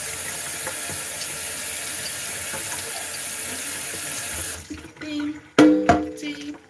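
Kitchen tap water runs steadily and loudly while a utensil is rinsed, then cuts off, followed by a few clinks and knocks at the sink.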